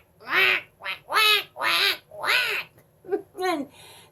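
A duck quacks repeatedly nearby, about seven loud, raspy calls in an uneven run, alone with no talking.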